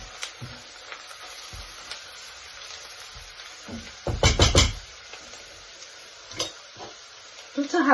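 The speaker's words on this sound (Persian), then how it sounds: "پیازام یه مقدار سرخ شدن." Onions frying in a pan with a teaspoon of turmeric stirred in, giving a low sizzle with scraping stirs and a loud burst of stirring near the middle, plus a few light clinks.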